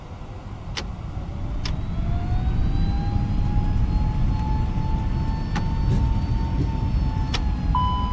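An Airbus A321neo in a flight simulator game spools up on its takeoff roll, giving a steady, loud engine roar with rising whining tones and a few sharp clicks, with no voices.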